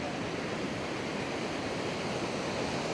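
Ocean surf rolls onto a sunny beach in Da Nang, a steady, wide wash of breaking waves at moderate loudness, with no voices over it.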